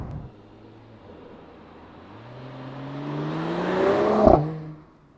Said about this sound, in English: this convertible here at almost 200 kilometers or 125 miles an hour is more silent than most all other cars on the market